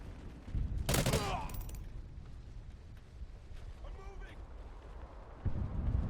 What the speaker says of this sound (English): I keep getting shot left and right,